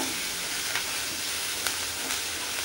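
Tomatoes and curry leaves sauté in a hot pan for pepper rasam, giving a steady, dense sizzle and hiss close by with a few faint stirring scrapes.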